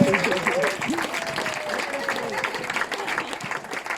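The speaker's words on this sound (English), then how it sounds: "Wait for the applause." Wedding reception guests break into applause during a best man's speech, a sustained crowd of clapping with cheering voices and a whistle-like tone rising over it at the start.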